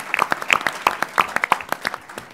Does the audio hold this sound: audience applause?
yes